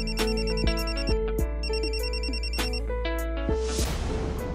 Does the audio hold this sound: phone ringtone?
yes